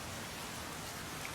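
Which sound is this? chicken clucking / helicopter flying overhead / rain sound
rain sound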